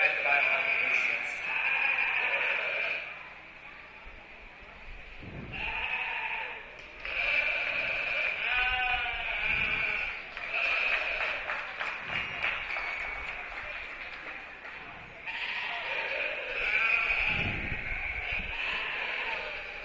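Sheep bleat repeatedly at a county fair lamb and sheep show, with ewes calling in bursts over a reverberant arena while an announcer's voice and scattered applause run underneath.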